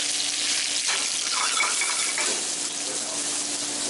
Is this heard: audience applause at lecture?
no